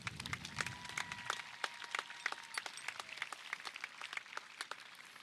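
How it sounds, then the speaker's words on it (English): A graduation audience at the Rubidoux High School 2021 ceremony applauds in scattered, distinct claps that carry steadily from a distance, fairly faint overall. "let's get a huge round of applause to all the people in our lives that made this possible"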